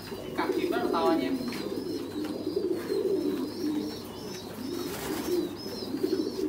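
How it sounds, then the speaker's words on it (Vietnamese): Large pigeons, a breeding pair raising squabs in a loft, coo in low, rolling repeated calls close by, with some chirps and light background noise throughout. "Đang đẻ con nhưng mà vẫn nuôi chim bồ câu ra ràng bên dưới."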